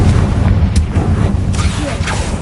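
The Confringo explosive spell in Hogwarts Legacy lands as a heavy, rumbling boom, loud and close, with a deep low-end blast and a brief crackling burst that sustains through the short moment.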